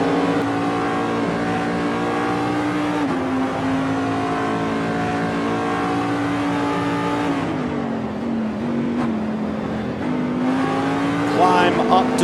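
A GTLM-class race car in Assetto Corsa at Road Atlanta, its engine note rising and falling through acceleration and gear changes, loud and close on board, with a narrating voice over it.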